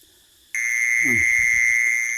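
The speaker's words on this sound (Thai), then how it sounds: "นี่คือเสียงแมงจีซอน หรือเสียงแมงกระซ่อน" A sharp, steady high-pitched buzz of a recorded jee-son (cicada-like) insect call starts abruptly and drones on continuously, played loud through a speaker, with a low murmur briefly underneath.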